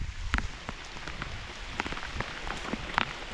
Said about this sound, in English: Heavy rain for a time.